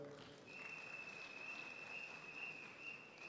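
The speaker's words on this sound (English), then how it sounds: "you should clap for yourself." An audience of teachers at a union delegates' annual conference in Kisumu claps steadily and fairly far off, a sustained wash of applause with a faint high tone running through it.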